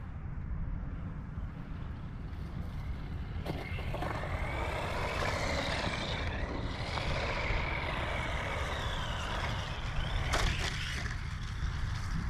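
Small Pulumo KF11 Master RC truck driving at full throttle and jumping on ice outdoors, a steady whining motor hum running throughout with brief louder bursts near the middle and end as it launches and lands.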